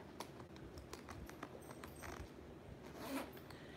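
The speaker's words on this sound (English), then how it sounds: "So, what you want to do is zip these two zippers down on the side." Two side zippers on a wallet being unzipped, heard as quiet rapid ticking and rasping zipper teeth that run steadily for a few seconds close by, with no talking.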